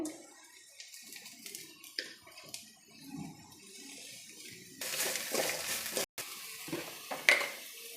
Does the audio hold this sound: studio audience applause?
no